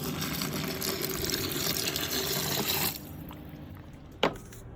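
Filtered water pours steadily into a beer brewing container for about three seconds, then stops, leaving a quieter background and one sharp knock near the end.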